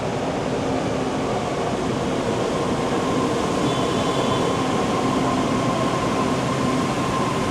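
A metro train arriving at an underground station platform in Saigon, heard as a loud, steady, continuous rumble and hum with faint high whine, no voices.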